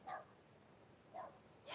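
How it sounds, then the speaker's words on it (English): A dog named Boogie barks twice during an oceanfront yoga session outdoors, short faint yaps spaced about a second apart over quiet background. "Boogie, what are you barking at?"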